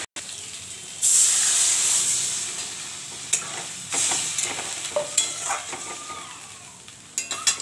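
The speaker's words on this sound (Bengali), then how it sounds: "উচ্ছেটা ভাজা হচ্ছে" Bitter gourd slices frying in a wok on a home stove make a loud sizzling hiss that starts suddenly, then fades, broken by spatula scrapes and clinks against the pan.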